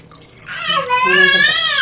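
Water poured into a pot of ivy gourd sambar with rice and lentils, starting with a few splashes and then a loud, steady stream whose hollow tone climbs as the pot fills.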